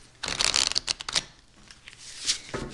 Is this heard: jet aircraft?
no